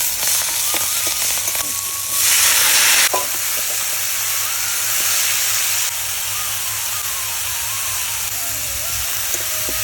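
Dried red chillies and cumin seeds sizzle in hot oil in a pan with fried fish heads. A loud, steady hiss runs throughout and swells into a harsher burst early on, with faint stirring clatter.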